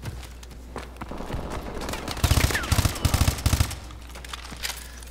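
IMR rifle gunfire in Call of Duty: Advanced Warfare, several quick bursts of sharp close shots over a steady low game background, no speech.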